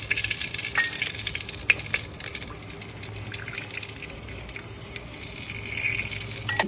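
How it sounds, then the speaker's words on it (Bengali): Mustard oil sizzles and crackles in a ghee-coated cooking pot, a steady close frying hiss with occasional sharper pops and stirring noises, with no talk over it. "এখন আমি দিয়ে দেবো সরষের তেল।"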